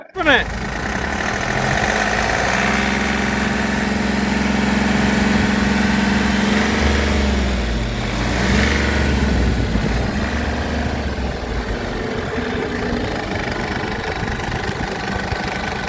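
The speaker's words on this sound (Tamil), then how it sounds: "ஸோ வண்டியோட நாய்ஸ் கேளுங்க." A seven-seater car's engine idles nearby, a steady loud rumble with a faint knocking rattle that eases slightly toward the end.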